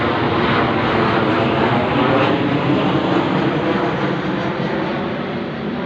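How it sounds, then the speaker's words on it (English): Aeroplanes pass low over a rooftop, a loud, steady broadband roar of jet engines filling the whole stretch without pause. "The sound of those aeroplanes when they go over the roof"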